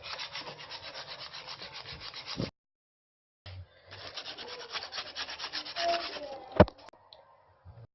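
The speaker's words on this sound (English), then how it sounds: "then you just scrape, just like you would do with vinyl" A stencil is scraped down onto a wooden sign board with steady, rhythmic rubbing strokes. After a brief silent pause the close, dry scraping resumes, and a sharp knock near the end cuts through it.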